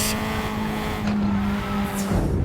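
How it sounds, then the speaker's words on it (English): Tatuus F4 Cup race car braking hard at Suzuka in RaceRoom, tires skidding under a steady loud engine drone, with a brief squeal rising near the end. "I jammed on the brakes and just tried my best to get around him"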